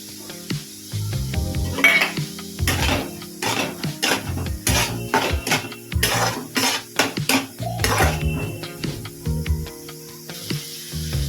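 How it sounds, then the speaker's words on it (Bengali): Masala with garlic paste, crushed garlic and chopped tomato sizzles in a pan for a Bengali fish-head curry, with repeated loud clanks and scrapes of a spoon stirring against the metal over a constant frying hiss. "ভালো করে কষিয়ে নেব। রসুন বাটা, রসুন থেতো করা এবং টমেটো কুচি দিয়ে দেবো।"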